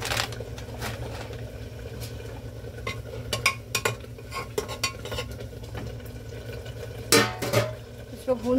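Tinda sabzi with crushed red chilli being stirred and roasted in a pan, heard as close scraping and clinking of a spoon against metal over a soft steady sizzle, with sharper scrapes now and then.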